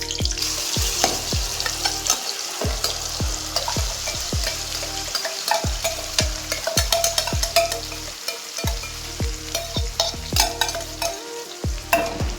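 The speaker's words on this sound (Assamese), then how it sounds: "এতিয়া ভাজিব লাগিব যেতিয়ালৈকে ভালকৈ মিক্স নহয় পেষ্টটো। আদা নহৰু গোন্ধটো যাব লাগিব।" Ginger garlic paste frying in a pan for a homestyle Assamese chicken dish, a continuous close sizzle broken by repeated scraping strokes of a spoon stirring at a steady rhythm, with no voices.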